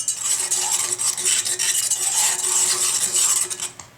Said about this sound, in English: keep thickening it with the whisk